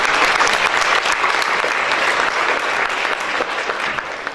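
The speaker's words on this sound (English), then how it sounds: "round of applause for the panelists" Loud, dense audience applause for the panelists at an entrepreneurship summit, steady throughout and tapering slightly at the end.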